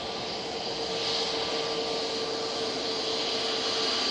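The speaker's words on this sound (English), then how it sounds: "Got an Easyjet A320 Neo coming down Victor Alpha." An easyJet Airbus A320neo taxis at Manchester Airport, giving off a steady, even jet engine whine and hiss that holds level throughout with no talk.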